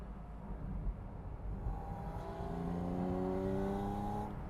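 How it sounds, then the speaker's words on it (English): An outdoor Porsche winds up from a low idle rumble into a loud, climbing engine whine that holds strong and near, its rising tone sustained through the acceleration. "Wow, that thing is really loud."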